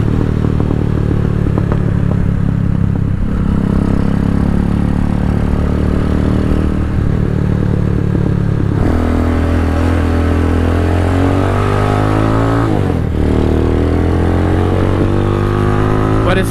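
A Venom X22R motorcycle engine runs close and loud, idling with a rough, vibrating throb and then revving up twice, the pitch climbing and falling between steady idle stretches.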